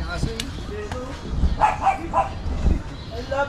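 A dog barking and yipping in short bursts close by, mixed with people talking over and between the barks.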